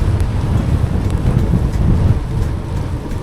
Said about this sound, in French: Par contre le vent il se calme pas.